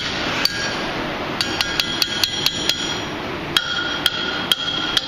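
Metallic hammer strikes on hot iron ringing out on an anvil while forging a pintle, a quick run of evenly spaced blows, a pause, then a few more, over a steady roar.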